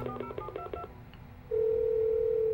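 A rapid series of video game telephone keypad beeps, about eight quick tones, followed by a steady ringing tone from the line.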